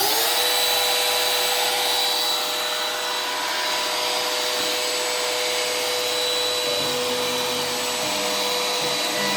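An Oliver CNC router spindle spins up and runs, a loud, steady high-pitched whine with a broadband hiss that holds constant throughout, with no talking.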